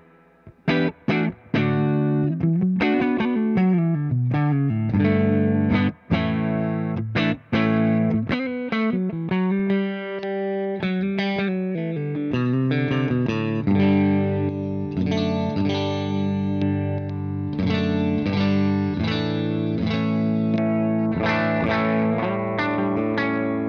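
Suhr Classic T and Suhr Alt T electric guitars played through an amp with a clean, chorused tone, picking notes and chords for over twenty seconds, no talking.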